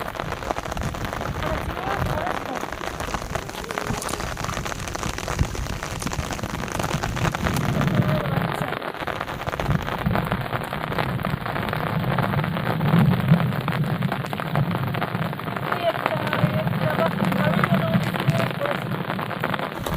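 Heavy rain falls steadily over a canal by a sluice gate, a dense broadband hiss lasting throughout with a slightly louder stretch in the second half.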